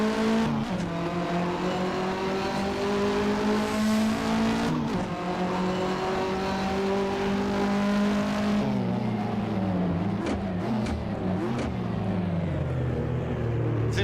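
A 1985–1992 Australian touring car engine in Assetto Corsa drones loudly and continuously, pitch climbing through gears with shifts and a drop near the end as revs fall.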